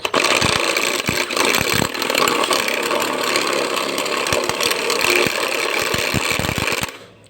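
A steady, loud grinding whir of a cordless electric drill running continuously for several seconds, enlarging a bearing seat on a 16-inch fan, with some knocking and clatter, stopping at the end.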